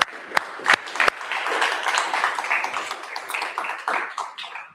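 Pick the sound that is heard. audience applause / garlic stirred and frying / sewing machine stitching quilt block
audience applause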